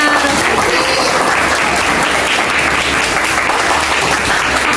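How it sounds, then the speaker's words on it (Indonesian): A school classroom audience gives loud, continuous applause for a student group after its book-review literacy presentation, a thick unbroken clatter of many hands close by. "Tepuk tangan buat kelompoknya."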